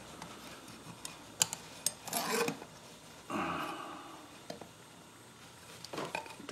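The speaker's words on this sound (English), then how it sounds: "And then we're just going to scribe a line on here." Scratching a line onto a wooden sign board, heard as a few faint rasping scrapes with light ticks and taps in between, close and quiet.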